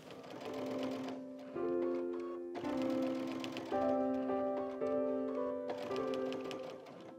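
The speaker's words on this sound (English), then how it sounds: "So now I'm going to stitch in the ditch of every seam on my star block" A sewing machine stitching in the ditch along the seams of a quilt star block, running in steady humming bursts separated by short pauses, close and clear with no talk.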